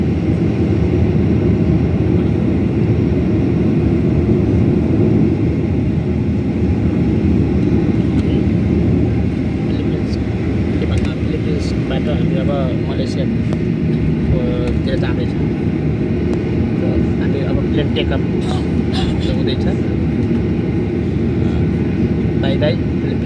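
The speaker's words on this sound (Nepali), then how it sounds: "अब रनवेबाट प्लेन टेकअपको लागि स्पिड लिमिट छ।" A Malaysia Airlines passenger jet builds speed on the runway for takeoff, heard from inside as a loud, steady engine roar with rumbling. Someone talks over the noise.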